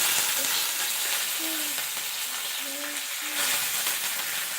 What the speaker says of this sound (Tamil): அம்மா வைக்கிறாங்க எண்ணெய் ஊற்றி கடுகு போட்டு பெருங்காயம் போட்டாச்சு